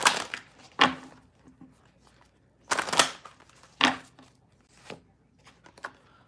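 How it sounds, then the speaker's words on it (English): Angel oracle cards being shuffled by hand, a few separate crisp riffling bursts with quiet pauses between, close and fairly faint. "And I'm just going to shuffle."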